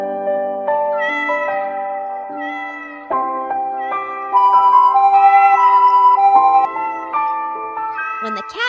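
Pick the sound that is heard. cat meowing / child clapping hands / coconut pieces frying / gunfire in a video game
cat meowing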